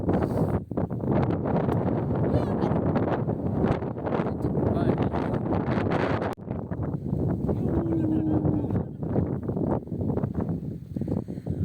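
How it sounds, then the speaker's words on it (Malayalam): Strong wind at about 2,000 feet elevation buffets the microphone in loud, gusting bursts, a heavy rumbling roar that rises and falls while someone talks underneath. "നല്ല കാറ്റാ കാറ്റ് പൂന്ന സൗണ്ട് കേൾക്കും"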